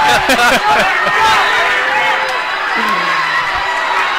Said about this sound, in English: And now, Mitch, you're really going to be able to hear the Farmington crowd.